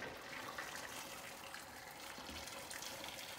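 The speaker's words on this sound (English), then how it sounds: "I'm just pouring it in with my tea kettle into the pot" Boiling water pours steadily from a tea kettle into a cooking pot, a continuous soft splashing and trickling stream heard close up and fairly quiet.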